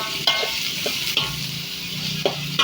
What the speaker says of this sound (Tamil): நல்லா வெங்காயம் தக்காளி வதங்குற அளவுக்கு அப்படியே குழஞ்சி வதங்கணும்